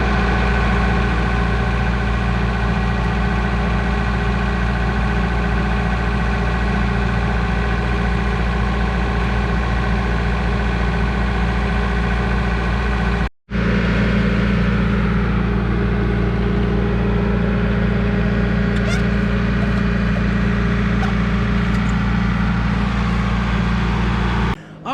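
An old tractor with a lift basket idles at a job site in a steady, loud, low mechanical drone that runs without change apart from one brief cutout partway through, with no talking.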